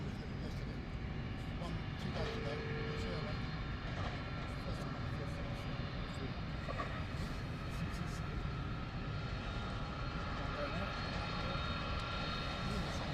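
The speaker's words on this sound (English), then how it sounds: "This DHL A300 freighter came in from Frankfurt this morning, of course, into London Luton." A DHL Airbus A300 freighter jet at London Luton Airport, arrived from Frankfurt, gives a steady broadband engine roar that holds evenly throughout, with faint voices underneath.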